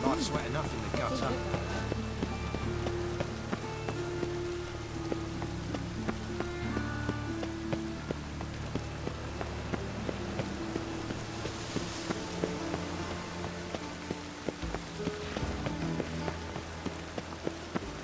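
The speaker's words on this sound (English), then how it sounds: "It just rains and rains." Steady rain falls and patters on surfaces in the video game The Witcher 3: Wild Hunt, a continuous wash running under game characters' voices and scattered background sounds.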